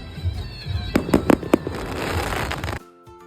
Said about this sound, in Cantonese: 第一次喺雪景下面睇煙花。